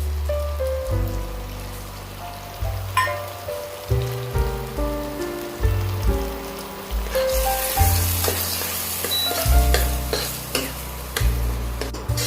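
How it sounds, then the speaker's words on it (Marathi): Masala spices (red chutney, turmeric, garam masala, red chilli powder) roasting in a pan over a low flame, with steady rhythmic stirring scrapes and soft sizzling under sustained background music. "मंद आचेवर आपण हा मसाला भाजून घेणार आहोत"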